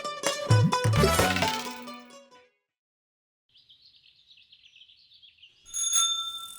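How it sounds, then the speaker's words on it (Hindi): A temple bell is struck in a few quick, loud, clanging blows that ring out and fade over about two seconds, followed after a quiet gap by a thin high chirping tone and a brighter ring. "हम ना मंदिर में घंटा बजा के आते हैं"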